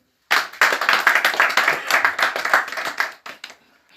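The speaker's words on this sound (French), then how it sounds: "ça s'applaudit" An association meeting's audience bursts into applause after a brief silence, brisk clapping from a modest group that builds quickly, holds for about three seconds, then tapers off into a few scattered claps.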